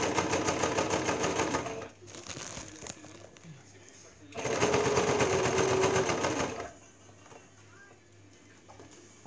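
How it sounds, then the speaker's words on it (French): A sewing machine stitches bias binding onto an apron pocket, whirring in two long steady runs with a pause between, while someone talks quietly nearby. "je suis en train donc de coudre ma poche"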